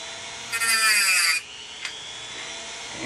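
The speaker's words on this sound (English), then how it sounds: "So I like to use a Dremel cutoff wheel." A Dremel cutoff wheel cuts into an aluminum bottle in a brief, shrill, high-pitched grinding whine lasting under a second, followed by a faint click and then quiet.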